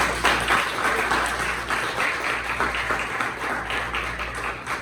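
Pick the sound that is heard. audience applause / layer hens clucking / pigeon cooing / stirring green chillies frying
audience applause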